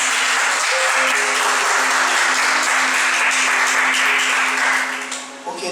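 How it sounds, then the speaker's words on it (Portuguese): A church congregation applauds during an evangelical service, a loud, sustained roar of clapping over a steady low hum, fading near the end. "Pode aplaudir o Senhor, não tem?"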